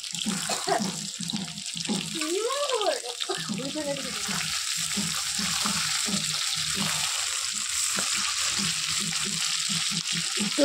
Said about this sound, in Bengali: এই যে দেখো মাংসগুলোকে এখন ভেজে নিচ্ছি কড়াইতে